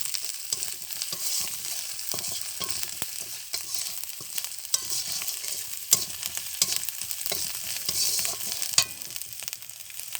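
Chili powder and spices stirred in a hot frying pan, a steady bright sizzle with scattered scraping clicks of a spatula throughout, moderately close and without talk.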